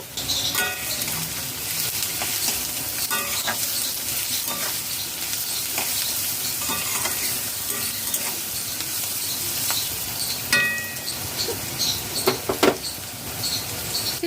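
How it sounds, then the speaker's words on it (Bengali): Pointed gourd and prawns with salt frying in a pan while being stirred, a steady close sizzle with scraping spatula strokes and a few sharper clacks near the end. "দু মিনিট নাড়াচাড়া করে ভেজে নিয়েছি"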